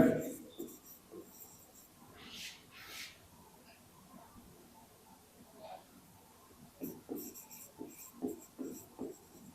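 Marker or chalk writing on a board during a class 10 physics lesson on electric current, soft scratchy strokes coming in short irregular bursts, with a teacher's quiet voice and faint room noise between them.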